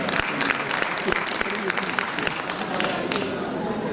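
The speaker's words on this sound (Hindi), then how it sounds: "एक बार तालियों के साथ अभिनंदन।" Audience applause at a Hindi literary award ceremony honouring a writer, a dense sustained clapping from a large crowd filling the hall steadily for several seconds with some voices mixed in.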